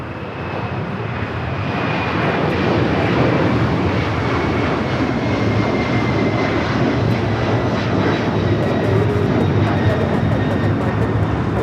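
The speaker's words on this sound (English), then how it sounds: "Delta Airlines 8865 off to Baltimore" A Delta Airlines jet departs runway 25 right at Los Angeles International, its engine roar swelling over the first couple of seconds and then holding loud and steady, with faint talk underneath.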